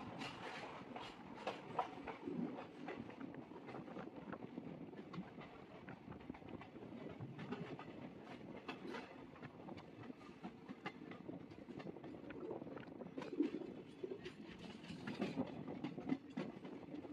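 A passenger train pulls out of Mysore Junction, its carriages rolling with steady rhythmic clickety-clack over the rail joints, heard from inside the train at a moderate, continuous level.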